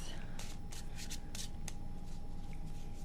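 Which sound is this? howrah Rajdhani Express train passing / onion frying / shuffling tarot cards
shuffling tarot cards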